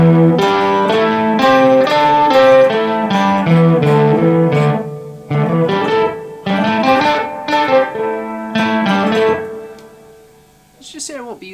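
Electric guitar played through a Boss DD-500 on a perfect-fifths pitch-shifting preset, a series of strummed chords and single notes with a thick, muddy doubled tone, loud and close, fading near the end.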